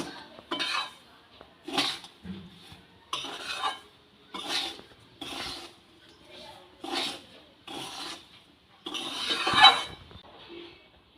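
A spoon scrapes and stirs semolina with ghee in a pan for laddu, about nine distinct rasping strokes in a regular rhythm, close and clear with quiet gaps between.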